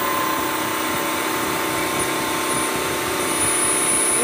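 Ezyclean floor cleaner running its automatic self-cleaning cycle, a steady whirring motor hum with faint mechanical whine, continuous and close, with no talking.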